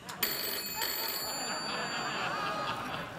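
A telephone rings on a late-night talk show stage, with a bright, sustained electronic ring that starts sharply and holds steady for about three seconds. Faint crowd noise sits beneath it.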